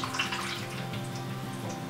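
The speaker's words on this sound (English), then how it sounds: "we're going to add a little bit of water to it" A steady stream of water pours into a shallow roasting dish holding spaghetti squash, a continuous gentle splash with no talk over it.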